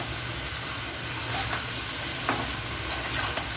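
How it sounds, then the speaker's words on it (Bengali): Water lily stems and shrimp are stirred together with flour in a hot pan, giving a constant close sizzle and hiss with occasional soft scraping strokes. "সুন্দর করে নেড়ে আটার সাথে শাপলাগুলো মিশিয়ে দিচ্ছি"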